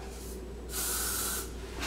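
Hairspray sprayed from an aerosol can while curling hair, heard as two short close hissing bursts with a quieter hiss between them.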